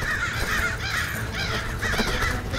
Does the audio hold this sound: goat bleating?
no